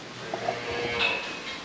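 Calves moo and bleat while being weighed on a farm, with brief cries rising over a steady background of barn noise and rustling, fairly close but not loud.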